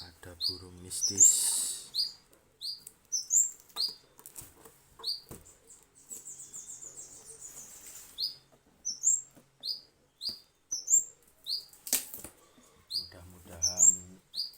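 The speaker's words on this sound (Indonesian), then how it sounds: "Ini juga ada burung mistis" Small birds kept in boxes chirp in short, high, repeated calls scattered across the whole stretch, close and fairly clear, with faint rustling and brief voices in between.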